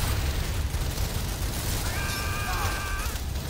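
Gunfire and machine-gun bursts in a World War 2 video game set in the Pacific battles at Rabaul and Tarawa, a continuous rattling barrage over a heavy low rumble, with a whistling tone rising briefly over the din.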